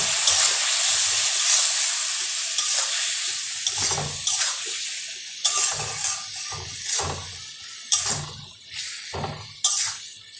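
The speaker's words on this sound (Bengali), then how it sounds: "মশলাটা যাতে না লেগে যায় তার জন্য সামান্য জল আমি দেব।" Water is poured into a hot pan of fish masala with cumin powder, setting off a loud, close hiss and steam that gradually settles into bubbling, broken by several clattering knocks of a utensil, with no voices.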